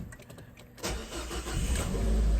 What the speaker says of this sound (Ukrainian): Як бачите, машина при цьому запускається, ніяких проблем немає.